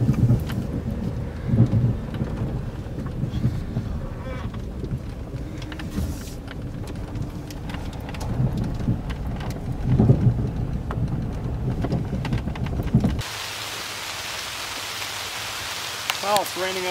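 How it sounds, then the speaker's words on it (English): Steady rain with deep rumbles of thunder at a lake campsite on Lake Vermilion, the downpour hissing continuously while low thunder rolls swell twice, then the sound cuts to a quieter, brighter patter near the end. "it's raining out again"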